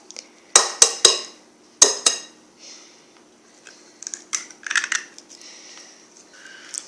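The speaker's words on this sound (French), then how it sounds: "on mélange jusqu'à ce que la pâte soit homogène et fluide, comme ceci" Whisk or spoon clinking against a bowl while muffin batter of sugar, egg and egg white is mixed, a few sharp close knocks followed by softer scraping taps.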